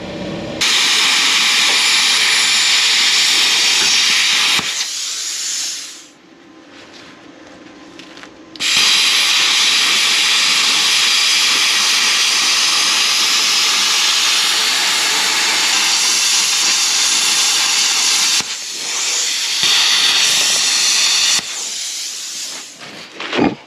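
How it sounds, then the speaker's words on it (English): A loud, steady hiss of an air compressor in a workshop running during a Crown Victoria frame swap on a 1964 Ford F100 runs almost continuously, dropping away briefly for a few seconds before roaring back. "Sorry about the compressor."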